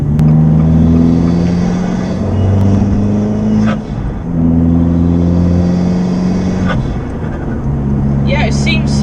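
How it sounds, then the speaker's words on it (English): Steady engine drone from a modified turbocharged Abarth fills the car cabin, with a deep rumble and rising-falling intake tones as the car accelerates and shifts; voices talk faintly underneath. "you seem to hear more of the intake noise coming through the cabin"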